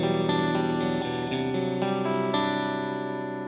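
An electric guitar strung with 10-46 gauge strings plays sustained distorted chords through a compressor, several even strums ringing out with a smooth, dense, slightly chorused tone that slowly decays.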